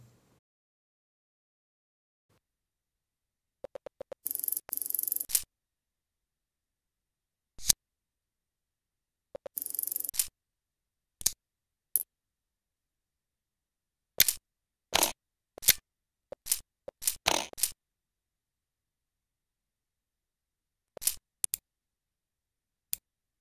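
Mac OS 9 running in an emulator plays short system action sounds: scattered brief clicks and snippy effects, some in quick clusters, separated by silence, fairly quiet, with no talking.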